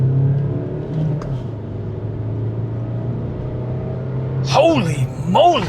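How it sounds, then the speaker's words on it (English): A cheap $1000 car being driven flat out on a 0 to 100 km/h acceleration run on the Nürburgring. Its engine gives a steady, close rumble throughout, and a man's excited exclamations break in near the end. "I think I need to give it a 0 to 100 just to see how fast this car can accelerate"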